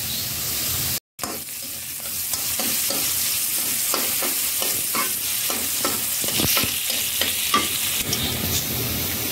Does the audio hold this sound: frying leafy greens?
yes